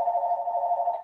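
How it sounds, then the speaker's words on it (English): A phone gives a single steady electronic ring tone lasting about a second, loud and clean against silence. "that's my phone ringing."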